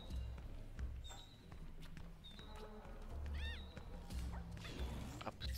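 A cartoonish cat meows in the papercraft video game Tearaway Unfolded, a quiet short call set among soft in-game thuds and background sounds.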